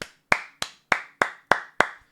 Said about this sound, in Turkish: Pleblere bir alkış.